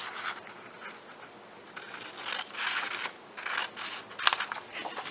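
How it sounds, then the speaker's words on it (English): Scissors snipping through a paper pattern for a craft shaker card and shadow box, a run of soft, close crisp cuts and scrapes in irregular bursts with no talking. "Just going to cut this out."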